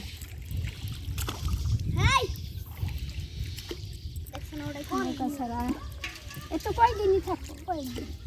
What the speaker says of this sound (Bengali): দুইজনে নৌকা বেয়ে নিয়ে যাবো